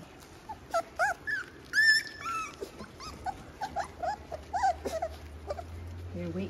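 Several F1 mini Bernedoodle puppies whimper and yip in high, wavering cries, scattered and overlapping, with a faint low hum running underneath.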